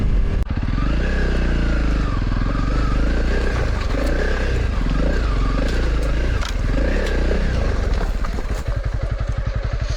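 A motorcycle ridden along narrow, boulder-strewn country lanes on the Yorkshire Trans Euro Trail, its engine droning close and steady throughout with light clatter and scraping from the rough track.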